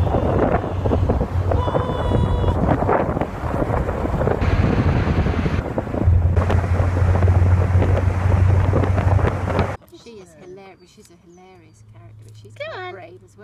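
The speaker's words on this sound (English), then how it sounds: "It's gonna get so windy." Heavy wind buffeting a microphone for about ten seconds, a loud low rumble, then it cuts to quieter surroundings with a person talking.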